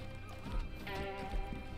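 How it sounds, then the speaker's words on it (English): A horse in Red Dead Online whinnies and clip-clops as it runs off, hoofbeats and a drawn-out neigh rising over game ambience, fairly faint, with a hint of voice in the background. "Run away, pathetic horse!"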